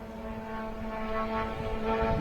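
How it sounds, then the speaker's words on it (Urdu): A drone flies overhead in Bahrain, making a steady droning buzz with a constant engine tone that swells slightly as it passes, fairly close and alone. "یہ ڈرون جا رہا ہے، آپ لوگ دیکھیں"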